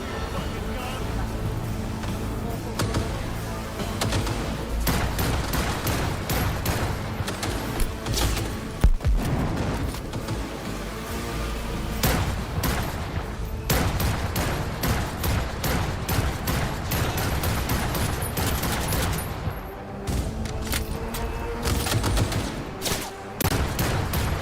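Rapid gunfire in Cyberpunk 2077, dense bursts of shots crackling almost nonstop for over twenty seconds, loud and close, with scattered voices mixed into the firefight.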